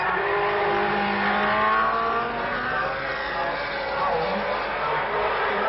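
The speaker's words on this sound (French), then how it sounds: "Jo Seifert est attaqué ici par Jochen Rindt, tandis que Jackie Stewart effectue son premier passage devant les tribunes" A French commentator talks over 1969 Formula 1 race cars at the German Grand Prix, their engines a continuous rising and falling drone with revving and passing cars in the background.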